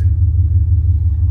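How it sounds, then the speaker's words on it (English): A pickup truck arrives with a deep, steady engine rumble, loud and close, pulsing slightly as it idles and rolls in, with no voices over it. "The deep rumbly sound you just heard was my son coming to help in his truck"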